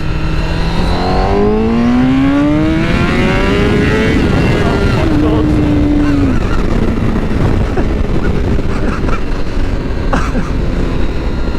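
A 2021 Honda CBR1000RR-R Fireblade SP accelerates hard in first gear on an open road, its engine note climbing in a loud, rising howl before a gear shift, then a sustained roar and wind rush.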